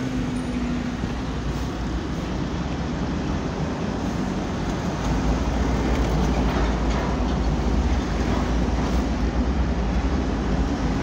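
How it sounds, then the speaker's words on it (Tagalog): An LRT 1 light rail train rumbles past with a steady, loud roar, wheel noise and hum blending with surrounding street traffic along EDSA in Metro Manila. "LRT 1 ang galing sa Baclaran papunta ng North Avenue"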